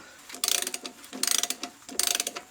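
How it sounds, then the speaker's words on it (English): Ratchet tightening strut bolts on a Chevy Tahoe during strut replacement, three quick bursts of rapid, close clicking separated by short pauses. "At this point, I'm going to tighten these bolts all the way."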